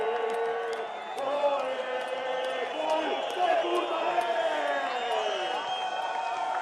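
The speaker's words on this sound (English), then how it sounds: "And listen to this Spanish crowd." A Spanish crowd cheers at a freeride ski event in Baqueira, a broad, steady roar of voices and whoops heard from a distance under a commentator's talk.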